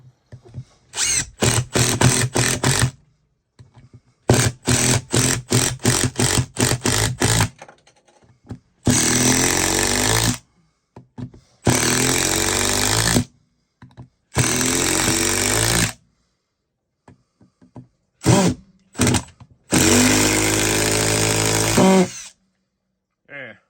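A cordless impact driver on a fully charged 6 amp battery drives screws in repeated loud bursts of rapid hammering rattle and motor whine, stopping and starting with short silences between runs, close up.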